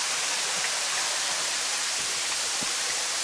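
Shiratama waterfall in Japan, a forest falls big enough to stand under, roaring as a steady broadband wash of falling water, close and constant with faint low thumps underneath and no talking.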